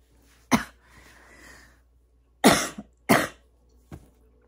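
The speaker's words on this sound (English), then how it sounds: "I'm about to start coughing my head off." Several sharp coughs, a few single bursts and a quick pair, with quiet breathing between them and no talking.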